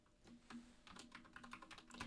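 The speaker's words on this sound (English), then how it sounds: "I'll type in bearish for you guys." Fingers tap a computer keyboard in a quick burst of soft clicks, close by and quiet, with no talking.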